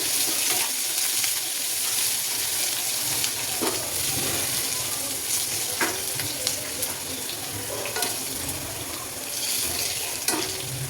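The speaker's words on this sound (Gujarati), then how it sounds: "રાઈને ફૂટવા દઈશું, હિંગ, જીરું અને લસણને નાખી દઈશું અને લસણને થોડું સાતળવા દઈશું" Garlic, mustard seeds, hing and cumin sizzle and crackle steadily in hot oil for Gujarati cucumber sabzi, a continuous close hiss dotted with small pops and no talking.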